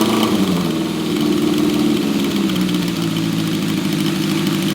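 A Honda CB750 motorcycle engine that had been sitting for a while idles steadily at close range, a loud continuous mechanical drone with a slightly uneven pulse and no voices.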